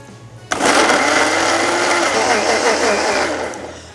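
After a quiet moment, a blender roars to life and grinds young radish kimchi seasoning with water steadily and loudly, easing slightly toward the end.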